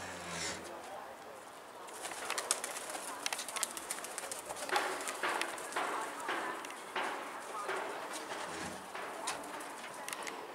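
Pigeons let out of an opened coop, with cooing and bursts of flapping wings close by outdoors, continuing throughout.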